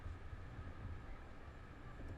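An express train in Train Drive ATS 3, a low steady rumble of wheels and motor running continuously, muffled as if heard from the cab, fairly quiet.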